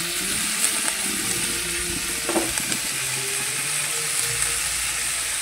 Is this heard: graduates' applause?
no